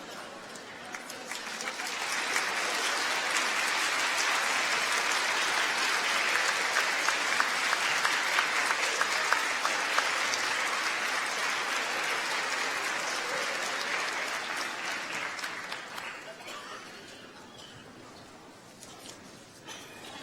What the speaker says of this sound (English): would you please stand and turn to your family and friends in this hall and applaud them for their support?